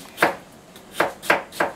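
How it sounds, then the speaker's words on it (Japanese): A kitchen knife slices a cucumber into thin strips for hiyashi chuka, giving four crisp, close chopping knocks on a cutting board at an uneven rhythm. "このように細切りしていけば"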